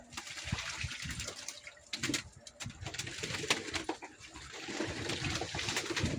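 A flock of homing pigeons coos and murmurs continuously nearby, with fluttering and scuffling movements throughout.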